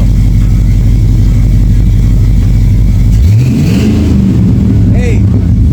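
An LS-swapped engine idles loudly, then revs up and falls back as the newly connected gas pedal is pressed, with someone talking over the engine.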